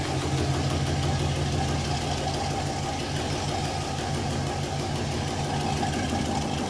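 A rugged K5 Blazer idles nearby with a steady, rumbling low engine drone and a constant vibration that holds at one level throughout, with no talking over it.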